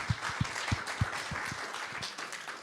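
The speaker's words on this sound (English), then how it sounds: "Can we give Dion a round of applause?" A small church audience claps in a soft, scattered round of applause, fairly distant and steady, with a few louder individual claps standing out.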